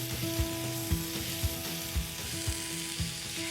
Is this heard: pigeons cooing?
no